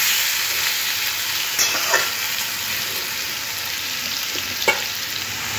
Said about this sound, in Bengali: এইভাবে আলু আর বিটটা খুব ভালো করে লাল লাল করে ভেজে নেব